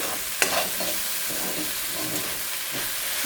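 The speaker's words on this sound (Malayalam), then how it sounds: "നമുക്ക് ഇളക്കി നോക്കാം." Food frying in a pan is stirred, giving a continuous close sizzle and hiss with a sharp scrape or clatter early on and softer spoon movements after, with no talking.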